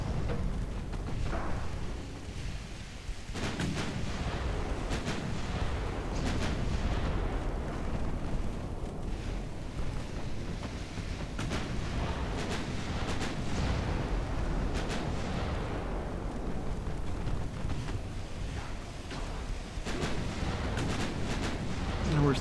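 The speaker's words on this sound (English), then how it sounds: "we're still getting a ton of ricochets" Booming naval gunfire and shell impacts from a cruiser duel in Ultimate Admiral Dreadnoughts, with ricochets among them: dense, continuous rumbling salvos and sharp bursts throughout, loud and sustained with repeated cracks layered over a heavy low roar.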